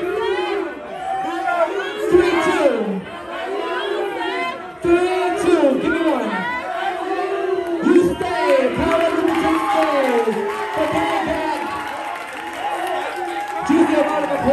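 Crowd at a kiki ball performance cheering, whooping and clapping continuously, a loud, dense wash of many voices with shouts and calls rising throughout.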